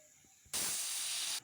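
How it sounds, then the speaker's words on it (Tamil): A pressure cooker cooking moong dal lets out one loud, sustained steam whistle, a sharp hiss that starts suddenly and holds steady for almost a second before cutting off. No one speaks. "4 விசில் வந்து ஆஃப் பண்ணிட்டோமுங்க."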